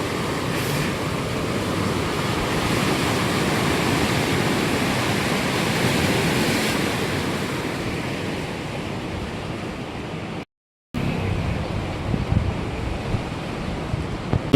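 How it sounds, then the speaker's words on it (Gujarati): Floodwater of a swollen river after twelve hours of nonstop rain rushes loudly below a bridge, a steady broadband roar with wind buffeting the microphone, briefly cut out near the end. "તમે પાણી જોઈ શકો છો, કેટલું ભયાનક પાણી છે,"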